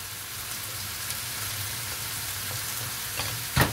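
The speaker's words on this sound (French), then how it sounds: "Et on laisse mijoter les oignons et la tomate comme ça." Onions and tomato simmer in a pan with a steady, close sizzle and crackle throughout, ending with a louder short clatter.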